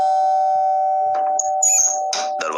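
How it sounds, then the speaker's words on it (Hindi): A hotel room doorbell chimes twice over a steady electronic hum, with a few soft rustles and thuds between the rings. "डोरबेल फिर से बजी।"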